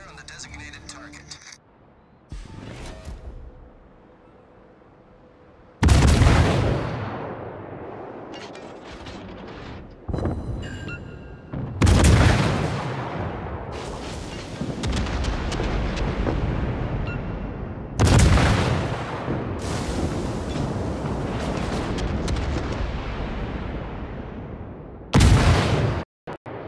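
Naval guns fire in World of Warships in loud, roaring salvos about six seconds apart, each decaying slowly. A voice speaks between the quieter stretches.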